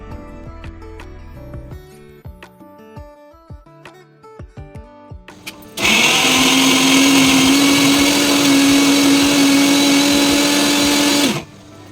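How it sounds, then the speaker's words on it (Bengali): After a run of light knocks and taps, an electric mixer grinder whirs loudly for about six seconds, grinding chillies with a steady high-pitched motor drone before cutting off. "এবার মিক্সির বাটিতে দিয়ে এটাকে বেটে নিয়ে"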